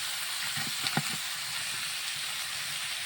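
Taro stalks fry in oil with turmeric and salt, a soft, even sizzle with a few brief stirring scrapes near the start.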